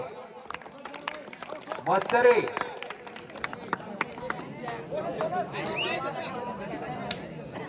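A crowd at a kabaddi match claps in scattered bursts under a commentator's loud talk and surrounding chatter, with the applause swelling briefly and then thinning out.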